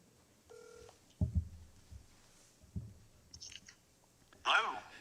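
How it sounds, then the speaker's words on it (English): A telephone is dialed to bring a remote participant into a school board meeting, with a short beep tone followed by handset clicks and a faint electronic chirp in a quiet room. "I'm going to dial him in for the presentation and also for feedback"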